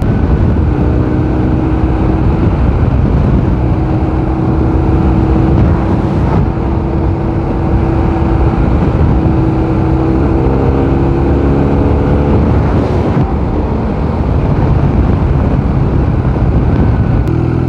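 A motorcycle with a smooth engine rides off-road, a steady loud drone with low rumble and gentle pitch shifts, heavy wind buffeting throughout, and no voices.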